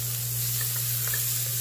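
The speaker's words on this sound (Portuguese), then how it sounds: "Vou mexer até que essa cebola fique translúcida" Half a large onion sautés in a pan, giving a short, steady, fairly soft sizzle while it is being stirred, with a faint hum underneath.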